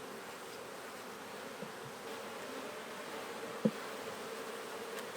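Honey bees buzz around an open-air hive that is being inspected. A soft, steady drone of many insects fills the scene, with a brief faint knock partway through.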